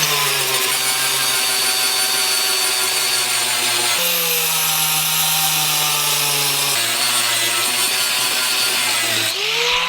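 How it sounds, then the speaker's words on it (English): A flattened metal piece being sanded with a power tool, a loud continuous motorized whine with strong steady tones that shift pitch a few times as pressure changes, close and unbroken for the whole stretch, with no voices. "I'm just gonna sand it down now that it's flattened and off the vise."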